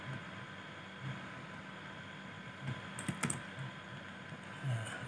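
Keystrokes on a computer keyboard while a quiz question is entered into a Google Form; faint, uneven clicks spread across a steady background hiss, with a small cluster of sharper taps near the middle.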